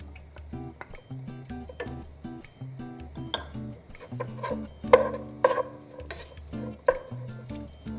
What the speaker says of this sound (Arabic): وهلا بطنجرة على النار منحمي معلقتين كبار من زيت النباتة ومنقلي فيهم 2 بصل مفروم ومعلقة كبيرة ونص من ثوم المهروس